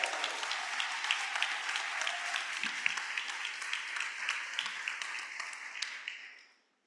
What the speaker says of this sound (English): Can we please have a very warm round of applause for Heather for the success of this event?